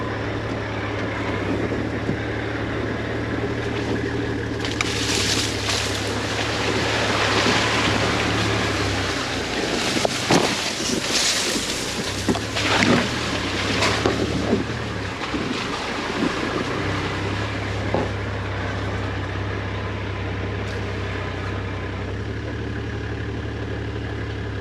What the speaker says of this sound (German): Jetzt fahren wir in das Wasser rein.